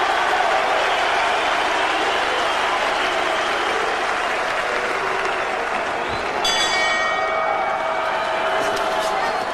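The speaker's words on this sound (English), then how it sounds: "big right from Eubank on the bell" At the Eubank versus Calzaghe boxing match, a quick ringing bell marks the end of the round, brief metallic strikes cutting through a loud, continuous roar of arena crowd noise and commentary.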